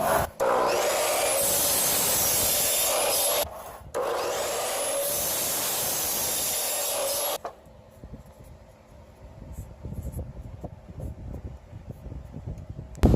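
A saw rasps through lumber as 12-inch sections are cut, two long loud stretches of steady sawing with a short pause between, then quieter handling and knocking noises.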